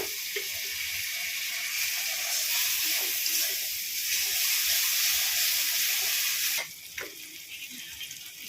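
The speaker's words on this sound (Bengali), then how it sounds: "একটু জল দিয়ে মশলাটা ভালো করে কষিয়ে দেবো।" Spice paste with chilli powder and a splash of water sizzles steadily in a pan for green jackfruit rezala, a bright continuous hiss that drops off abruptly near the end.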